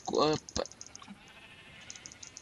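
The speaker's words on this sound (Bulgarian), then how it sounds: "Овце." Sheep bleating in the Minecraft video game, one wavering harmonic bleat followed by a short second call, close and clear over faint background game noise.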